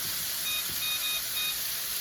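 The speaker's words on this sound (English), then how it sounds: "So now let's set the timer for about 2 more minutes." A kitchen timer beeps while chicken cooks in a pan, giving a few short, thin electronic tones at irregular spacing over a steady hiss of sizzling.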